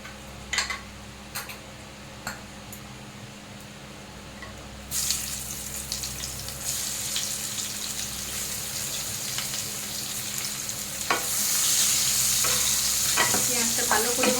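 Chopped onion tossed into hot oil with cinnamon, cloves and cardamom in a pan, starting with scattered stirring clicks, then a bright sizzle that swells louder and steadier toward the end.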